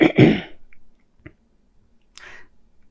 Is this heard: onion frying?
no